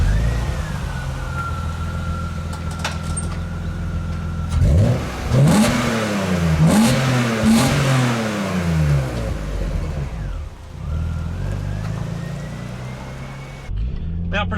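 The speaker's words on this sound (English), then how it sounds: "Another mod is the Dynon exhaust, which you'll hear in a little bit," A BMW M Coupe with a Dinan exhaust accelerates hard through several gears, its engine note rising and dropping in repeated sweeps, loud and close, framed by steadier running sound and a faint siren-like tone.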